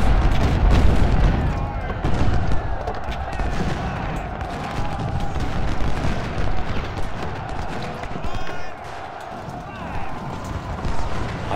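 Cannon and artillery fire rumble through a Civil War battle in the strategy game Ultimate General: Civil War, with scattered booms, crackling volleys and hoofbeat-like clatter under someone talking excitedly.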